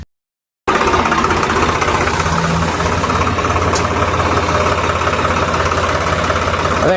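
Tractor engine idling on a farm during paddy cleaning, a steady loud mid-low throb that starts abruptly after a short silence and runs unbroken, with voices faintly mixed in.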